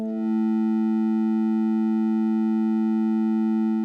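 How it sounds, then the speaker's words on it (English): A steady electronic tone driving an oscilloscope to draw shapes, with stacked buzzy harmonics and a faint rapid pulsing underneath, holding constant and fairly loud throughout. "That is how you draw shapes with sound on an oscilloscope."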